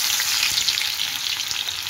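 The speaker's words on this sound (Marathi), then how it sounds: "तेल तापलं आहे, पहिली लसूण टाकायची" Garlic fries in hot oil in a kadhai, producing a bright, continuous close-up sizzle with fine crackles and faint stirring taps, heard alone without talk.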